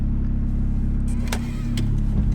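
Turbocharged Mazda NB Miata engine idling loud and close, a steady low rumble with a few sharp exhaust pops and bangs cracking through over a couple of seconds, no voices.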